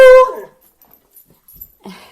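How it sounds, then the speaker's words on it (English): A dog lets out a single close, high whimpering whine at the start, followed by near silence and a few faint small sounds, with no talk. "There's the dog."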